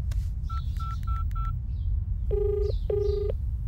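A phone number is dialed in a Telugu film scene: four quick, evenly spaced keypad beeps, then a short pause and two electronic ringback tones, clear and close against a low background hum.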